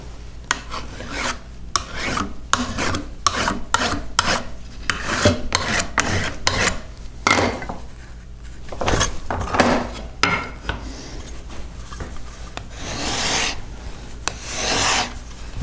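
A hard steel cabinet scraper edge is burnished to pull a burr, giving a series of quick, rasping metal-on-metal strokes, loud and close, in an irregular rhythm with brief pauses between passes.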